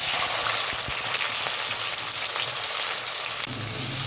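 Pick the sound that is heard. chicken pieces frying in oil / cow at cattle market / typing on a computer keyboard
chicken pieces frying in oil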